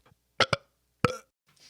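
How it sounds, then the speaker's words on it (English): A nervous burp: two quick gulping bursts close together, then a longer single belch-like eruption after a pause, loud and close with no speech, followed by a faint breathy rustle. "You only burp when you're really nervous."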